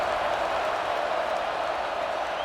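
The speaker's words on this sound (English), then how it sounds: "this crowd is buzzing after that last score" College Football 26 stadium crowd at a Michigan at Clemson game, a steady, dense roar of buzzing fans held evenly throughout with no breaks.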